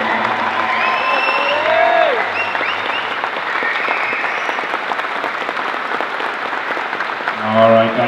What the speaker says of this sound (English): giving Collin one more standing round of applause